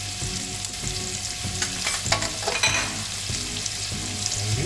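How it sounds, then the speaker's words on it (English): Onions frying in butter in a pan give a continuous close sizzle with quiet stirring scrapes running through it, with a steady low hum underneath and no speech. "And once it starts to heat, we'll add our onions to it."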